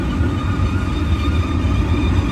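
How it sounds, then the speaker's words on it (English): A BNSF freight train rolls past at Sullivan's Curve near the old Cajon depot site, a loud, steady rumble and rail roar that fills the whole moment without letup. "Awesome train."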